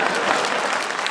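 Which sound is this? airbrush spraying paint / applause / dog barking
applause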